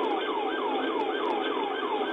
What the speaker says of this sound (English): Lights and sirens blaring, Officer Patrick Ray raced to a call for a c